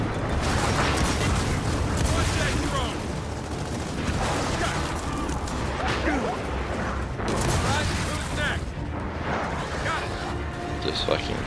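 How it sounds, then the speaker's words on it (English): A frag grenade detonates during a Gears of War 4 campaign firefight, its blast lost in a continuous loud barrage of gunfire, explosions and mechanical combat noise while a player talks over it. "Throwing frag!"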